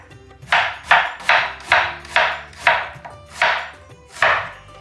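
A knife slices through onions on a board for a Desi lamb stew: eight crisp, evenly spaced cuts in a steady rhythm, close and clear with no talking.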